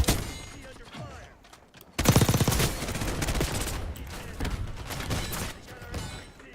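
Gunfire in a hardcore Black Ops 6 match on a small map: a quieter opening, then a sudden loud burst of rapid automatic shots that continues in dense volleys, with faint game voice lines.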